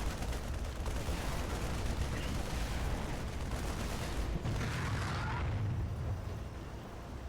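An explosion in a StarCraft match destroys a two-barracks Reaper build, heard as a dense, noisy blast rumble that swells and lingers over several seconds.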